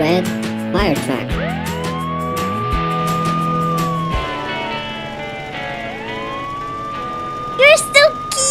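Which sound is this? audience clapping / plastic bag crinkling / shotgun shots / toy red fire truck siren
toy red fire truck siren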